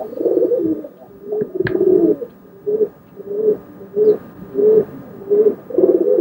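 Roller pigeons cooing in a loft compartment in England, a steady run of soft, low rhythmic coos repeating about once a second, close by with no talk.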